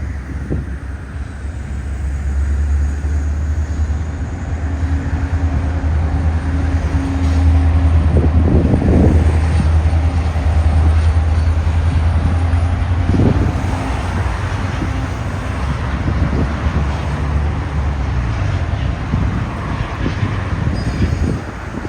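A CP freight train with EMD power and a DPU locomotive rolls past close by, producing a loud, continuous rumble and roar. The sound swells in the middle and carries heavy wind buffeting on the microphone throughout.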